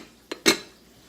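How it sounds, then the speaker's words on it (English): A metal lid is set onto a pot, giving two quick close clanks, a light tap then a louder ringing clatter that fades quickly, with no voices. "So we're gonna put the lid on that and just set it aside."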